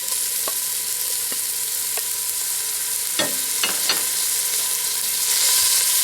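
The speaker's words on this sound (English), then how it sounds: "So now we put in our onions. And we want to soften the onions." Onions softening in olive oil in a pan: an even, bright sizzle throughout, broken by a few sharp taps and clicks of a utensil against the pan.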